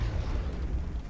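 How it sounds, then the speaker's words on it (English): Grenade explosion in XCOM: The Long War, a brief low rumbling boom that fades quietly, heard on its own. "Then we're gonna toss down a nice grenade right about there. Try and blow up as much of this cover"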